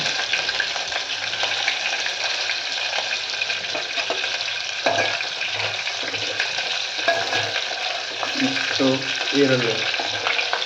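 Green chillies and onion sizzle steadily in a hot pan while uppit is cooked, with occasional stirring scrapes and soft clinks, close and continuous throughout.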